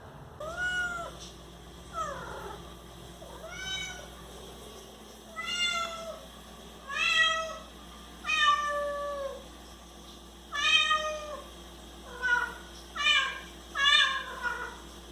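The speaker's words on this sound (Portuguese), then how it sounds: "ela mia esquisito o tempo todo, parece que ela tá chamando alguém" A house cat meows in a strange, drawn-out way again and again, about a dozen wavering calls spread over the stretch with short pauses between them, close and clear over a low steady hum.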